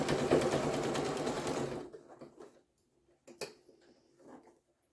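A sewing machine stitches fabric for a scrappy Easter basket, a fast steady mechanical whirr for about two seconds, then stops, leaving faint handling clicks and rustles.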